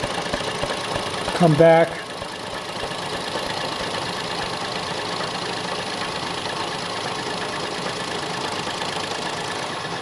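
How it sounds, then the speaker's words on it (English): A conventional milling machine shaves metal while repairing a metal notcher, giving a steady, even mechanical drone that runs unbroken through the whole stretch, with a brief spoken voice near the start. "Just go ahead and shave this off here. Just a conventional mill."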